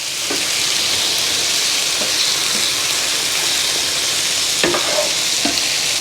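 Food sizzles and fries steadily on an electric Blackstone griddle, a dense continuous hiss with a few soft scraping clicks, close and fairly loud, with no talking.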